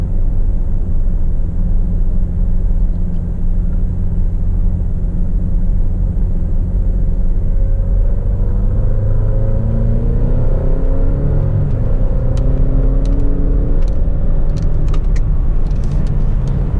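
An Alfa Romeo Stelvio SUV driving through turns on all-season tires, a loud steady low engine and road rumble with engine tones sweeping upward as it accelerates out of corners, a few faint clicks near the end, no talking.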